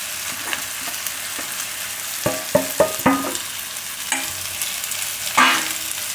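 Cooked leftover rice tipped into a hot pan with potatoes and green onion, then stirred, bringing a steady sizzle broken by several scraping spoon knocks close by.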